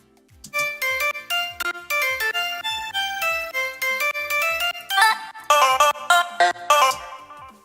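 A bright Nexus synth plays a drop section in an electronic track, with rapid plucked chord stabs in a steady rhythmic pattern that grows denser and louder toward the end, no voices.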